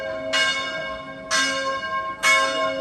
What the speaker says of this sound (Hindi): शाम हो गई है तो यहाँ पे करीब ही कोई इनके चर्च है जो ये घंटियाँ बज रही हैं।